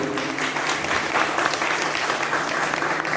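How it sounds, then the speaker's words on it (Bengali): An audience at a theatre academy stage event claps loudly and continuously, a dense, even wash of applause filling the whole stretch without voices on top. "সবাই একটু জোরে হাত তালি দেবেন"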